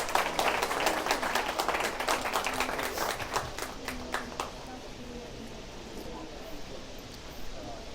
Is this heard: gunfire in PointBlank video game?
no